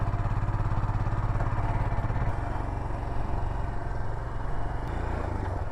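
A motorbike rides along a track toward a lighthouse on a rocky Namibian coast, its engine a constant loud drone with rough, rattling texture and no pauses.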